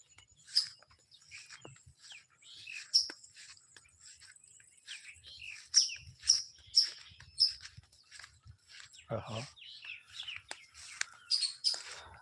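Small birds, named as sparrows, chirp in a mango garden, quiet bright tweets coming in scattered bursts with gaps between them, and a faint low murmur underneath.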